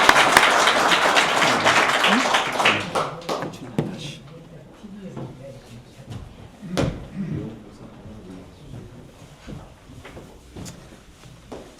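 Applause from a symposium audience welcoming a former unification minister as keynote speaker, loud clapping at first that thins into scattered claps and knocks while a voice talks over it.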